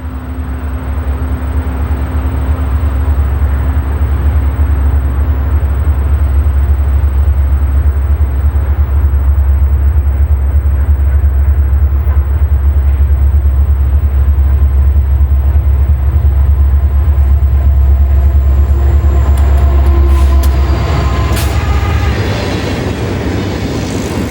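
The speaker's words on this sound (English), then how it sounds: "an empty coal train is viewed as it passes through Hayesville" An empty coal train of hopper cars rushes through Hayesville with a loud, steady low rumble, then rattling and squealing wheel noise rises near the end.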